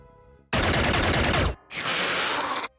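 Two loud bursts of rapid automatic gunfire in Xenonauts, a one-second volley, a short gap, then a second burst of about the same length, heard without any talk.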